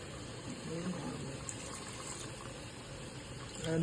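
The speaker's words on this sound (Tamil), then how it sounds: "ஒரு கொஞ்சம் தண்ணி விடுவோம்." Water pours steadily into a pot of Hyderabadi chicken biryani with rice, a continuous soft splashing rush at low volume with no talking, rising slightly just before the end.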